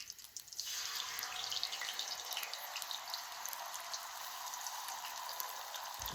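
A splash of water hits the hot glass of a duck blind cooktop near frying eggs, breaking into a sustained, fairly quiet hiss and bubbling sizzle.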